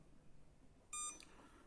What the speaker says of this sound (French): au bout de 10 minutes d'inactivité, il se met à biper